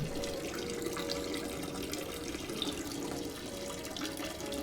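A character in the horror game Fears To Fathom urinates, producing a steady, quiet trickle of liquid splashing into water that runs continuously for several seconds with nothing else over it.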